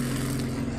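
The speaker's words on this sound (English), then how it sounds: "Hello to you too, Mr. Motorcycle." A motorcycle passes outside an open window on a hot day, a steady low engine drone holding through the whole short moment, moderately loud and unbroken, with no one talking over it.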